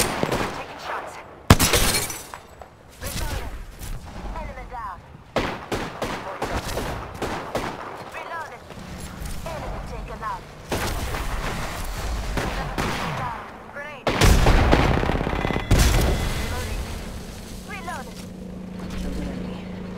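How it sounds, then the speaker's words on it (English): Bursts of gunfire in the Apex Legends battle royale, sharp rapid shots and volleys scattered through the clip, loud and close, with a voice talking over the action. "Listen up, I'm getting shot at."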